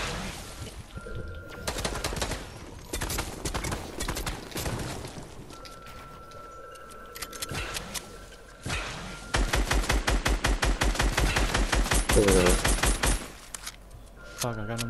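Assault rifle fire in a video game, with loud, close bursts and sustained rattling volleys that grow denser toward the end, while voices talk over the shooting.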